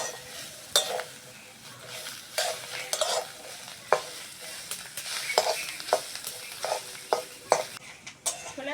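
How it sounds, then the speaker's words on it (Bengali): Bathua greens and chickpeas sizzle and fry in a pan while being stirred, with steady frying noise and repeated scraping strokes of a spatula at an even, moderate pace, no talk. "ছোলার সঙ্গে শাকটাকে ভালো করে ভেজে নিয়েছি"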